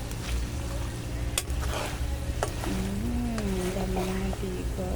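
Food sizzles and spatters in hot oil in a steady close crackle, with a few sharp clicks and a voice talking faintly in the background.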